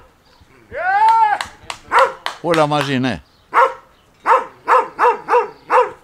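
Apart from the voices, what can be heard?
dog barking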